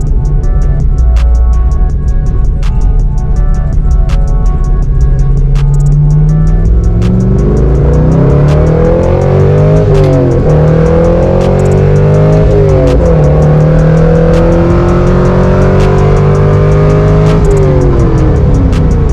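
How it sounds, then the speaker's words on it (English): A car on the freeway is opened up, its engine roaring loud and close with rising revs through several gear changes, the pitch climbing and dropping repeatedly. "I'm gonna open it up a little bit for you guys and give you perspective on how the car performs"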